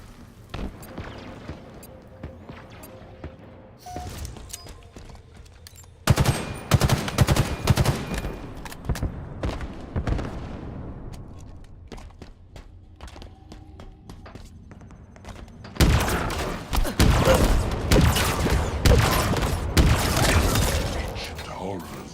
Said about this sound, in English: The frickin' grenade launcher, its explosion radius should be a little bit bigger than that.